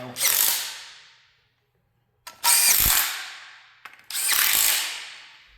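Cordless torque wrench run on engine bolts in three separate bursts, each a loud close whirring hiss that fades out over about a second, with short gaps of near silence between them.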